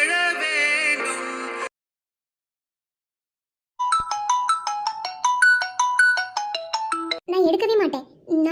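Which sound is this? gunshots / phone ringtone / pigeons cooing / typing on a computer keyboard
phone ringtone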